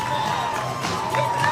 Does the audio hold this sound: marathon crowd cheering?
yes